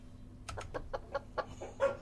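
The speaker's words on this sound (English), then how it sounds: "it's time to put the chickens out" Chickens clucking nearby in a quick, irregular series of short calls, with a steady low hum in the background.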